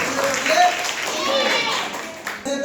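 Children in a classroom clap after a correct answer, a moderate ragged round of applause mixed with a teacher's voice and some children's chatter.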